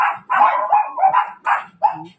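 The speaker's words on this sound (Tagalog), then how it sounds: "mga aso na maiingay" Several sharp dog barks come in quick bursts, close and loud, with a short whiny yelp near the end.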